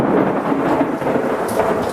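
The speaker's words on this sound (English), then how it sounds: "just massive lightning, or should I say thunder, and it's just the loudest I have ever heard in my life" Loud, rolling thunder rumbles through an intense November thunderstorm, a deep continuous roar layered over steady rain hitting surfaces, close and heavy for the whole stretch.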